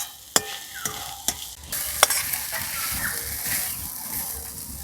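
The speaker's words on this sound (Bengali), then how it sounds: "এই সবজিটা কিন্তু একদমই হালকা করে ভেজেছি," Lightly cooked vegetables sizzle in hot oil in a pan while being stirred, with a few sharp utensil clacks against the pan at the start over a steady frying hiss.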